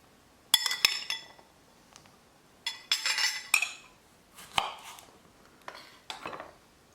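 Fruit salad being mixed in a bowl, a series of clinks and clatters as a utensil strikes the bowl in irregular bursts, fairly close and moderately loud with quiet gaps between.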